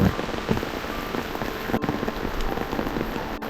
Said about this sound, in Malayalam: നല്ല മഴ, നല്ല മഴ എന്ന് പറഞ്ഞാൽ നല്ല മഴ